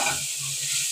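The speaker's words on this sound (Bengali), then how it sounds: "এখন আমি ভালো করে ভেজে নেব।" Beef tripe fries in a pan with salt and turmeric, giving a steady bright sizzle with faint stirring underneath for about a second.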